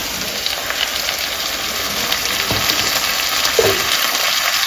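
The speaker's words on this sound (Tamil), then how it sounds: "இப்போ வந்து நம்ம இதுல வந்து முந்திரி பேஸ்ட் ஊற்ற போறோம்." Cashew paste added to a pan of Mughlai chicken curry simmering in separated oil, giving a continuous crackling sizzle with a few soft splashes and stirring sounds, close and steady, without talk.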